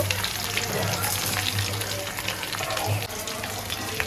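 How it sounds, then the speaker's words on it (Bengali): Chicken frying crisp in hot oil, a loud continuous crackling sizzle close up with occasional stirring and spatter bursts, no talk. "একদম কড়া করে ভাজবো"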